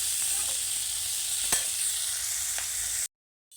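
Bitter gourd curry sizzles steadily in hot oil with a spice tempering, a continuous close frying hiss with a couple of faint stirring clicks, cutting off abruptly near the end.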